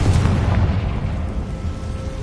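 A Confringo fire spell blasting in the Hogwarts Legacy video game, a loud, dense, rumbling explosion that roars continuously and fades only slightly, no voices over it.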